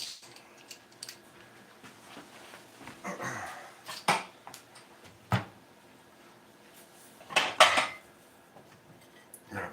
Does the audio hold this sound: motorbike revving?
no